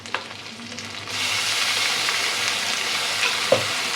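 Spice paste hits hot oil and bursts into loud, crackling sizzle that spatters steadily close by, with a sharp clink near the end and no talking.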